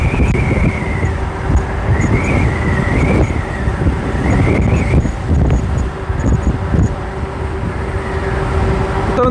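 A Segway Xyber electric bike accelerates hard in race mode. Its motor gives a rising and falling electric whine over steady rushing wind and road noise.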